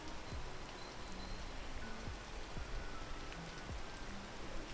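Rain ambience in the video game Marvel Snap, a faint, even patter of raindrops with a few soft chirp-like tones scattered through it.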